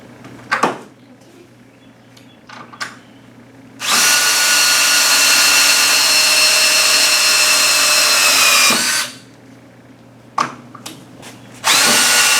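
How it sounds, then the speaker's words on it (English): A power drill drives 3-inch exterior deck screws into wood while a hog trap door is built, with one loud sustained whir of about five seconds, brief clicks and knocks before and after, and a second run starting at the end. "Now we're just going to screw these screws in here. 3-inch deck screws, exterior deck screws."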